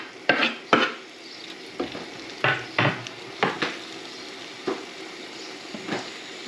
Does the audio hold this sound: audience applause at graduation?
no